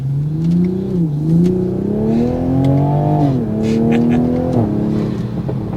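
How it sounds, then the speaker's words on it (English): A 2020 Toyota Supra MK5 sports car engine revs loud and close in sport manual mode, pitch climbing steadily through several gears with brief dips at each shift, a continuous rising roar. "we're going into sport mode, manual mode, and I'm gonna do an acceleration"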